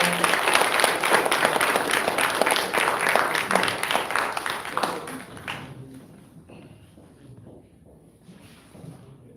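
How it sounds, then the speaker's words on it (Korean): Enthusiastic church audience applause at a book report contest, loud and dense at first, then thinning out and fading to scattered claps and murmurs. "자, 박수 한번 주세요."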